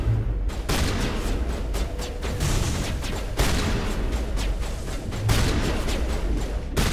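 Gunfire in the video game Mass Effect 1, loud dense rattling shots and blasts layered over a constant din of combat, continuous for the whole stretch.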